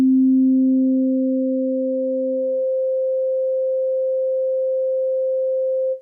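Pure sine tone from a Yamaha Montage M AN-X synth with ring modulation: a low steady tone fades after a few seconds while a clean tone an octave higher sustains alone, then cuts off.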